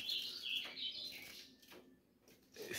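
Small bird, a tico-tico (rufous-collared sparrow), chirping in quick, bright bursts, fairly close, with a few short pauses and no talking.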